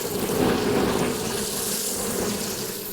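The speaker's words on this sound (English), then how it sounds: "I do love the sound of bees." Honey bees from a swarm buzz continuously during a hive inspection, a dense, close, steady drone with no talking.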